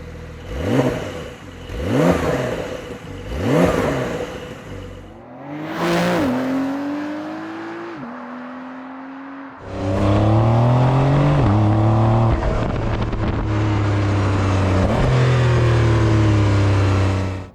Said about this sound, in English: As for the engine noise, well, on the outside, even with the sports exhaust valves opened, it still kind of sounds a little bit like a vacuum cleaner.